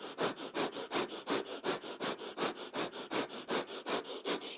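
Breath of fire in kundalini yoga: quick, forceful, rhythmic nasal breaths, about four per second, close and steady for several seconds with no talking.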